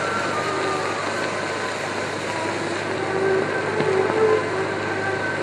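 A Czech M131.1 motor railcar brakes with a steady rumbling, hissing wash of mechanical noise that swells slightly near the end, heard alone.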